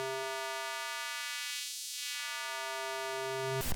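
Square wave output from an Instruo Cs-L oscillator: a bright buzzy steady tone rich in harmonics, its pitch sweeping down and back up with the low partials thinning out in the middle, ending with a short click.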